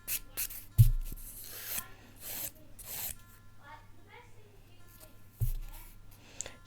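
Hand file rubbing acrylic nail product off fingernails in quick, close scratchy strokes, coming in short rasping bursts, with a couple of soft thumps and some quiet talk.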